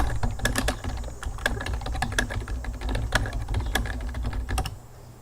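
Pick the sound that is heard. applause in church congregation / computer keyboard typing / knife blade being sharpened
computer keyboard typing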